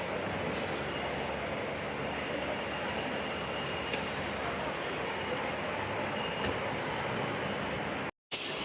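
A Kolkata metro train on the Kavi Subhash line running along, a steady close roar and rumble from inside the carriage with faint clicks of the wheels, cut off briefly near the end.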